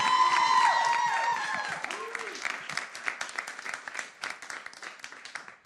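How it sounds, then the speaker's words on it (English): Audience applause at a talk-show event, loud clapping from a crowd that starts strong and gradually thins into scattered claps as it fades. "Let's give them a round of applause,"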